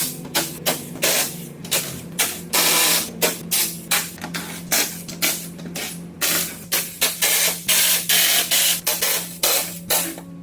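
Torx and 10 mm fasteners being removed from the under tray of a Ferrari F12 Berlinetta, giving a rapid series of sharp, close power-tool bursts and clicks in an uneven rhythm over a steady low hum, with no talking.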